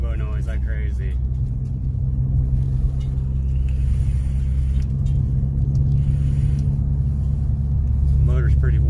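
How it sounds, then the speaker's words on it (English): A car fitted with a 2J Racing cowl induction intake drives slowly through a neighborhood, a steady low engine rumble filling the cabin throughout while a person talks over it. "It definitely makes turbo noise like crazy."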